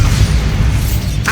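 Bombarda blasting spell in Hogwarts Legacy, a deep booming explosion that rumbles low and loud throughout, ending with a brief brighter burst.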